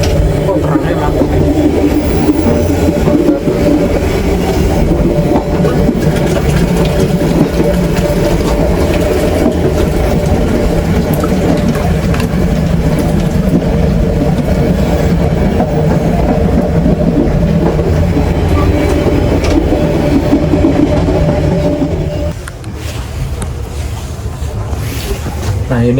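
Passenger train on rails in Indonesia heard from inside the carriage, a loud steady rumble and rolling drone throughout that eases near the end, with voices talking over it.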